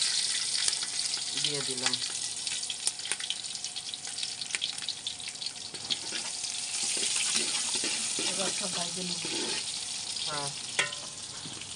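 Whole spices, cloves, bay leaves, green chillies and onion sizzle and crackle steadily in hot oil in a cooking pot, with occasional stirring scrapes; a voice speaks briefly over the frying.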